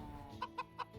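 Chickens clucking in a video game farm, three short evenly spaced clucks, faint and close, over a quiet low background hum.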